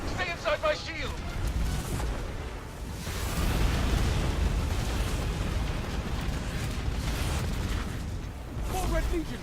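Heavy missile explosions boom and rumble continuously in a Destiny 2 video game cutscene, a dense wash of blasts with a voice speaking briefly at the start and end.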